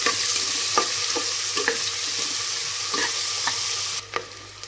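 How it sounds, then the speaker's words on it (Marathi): Onion, curry leaves and green chilli fry in hot oil in a pan, giving a steady loud sizzle with repeated scraping knocks as the mixture is stirred; no voices. "कांदा घातल्यानंतर कढीपत्ता, हिरवी मिरची।"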